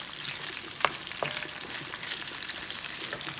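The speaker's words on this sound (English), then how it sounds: "I cut some smoked sausage up and I'm pan frying it." Cut pieces of smoked sausage sizzle steadily in a pan, a soft continuous frying crackle with a few sharper pops and spatters, fairly quiet and without talk.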